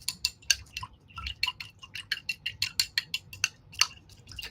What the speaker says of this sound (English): And I'm going to wash my brush.